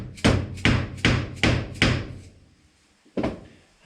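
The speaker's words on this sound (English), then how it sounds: "Give it a tap with a dead blow hammer" A dead blow hammer taps a door hinge pin on a Toyota FJ40, with the hinge set against the edge of a tool bench. Five sharp, evenly spaced knocks land in quick succession, then after a short pause a single final blow follows. All are close and loud, with no talking.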